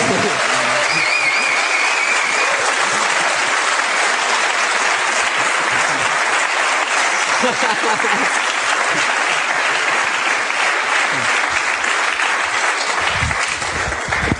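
Steady, dense applause fills an ice rink for a figure skater, continuous and even throughout with no break.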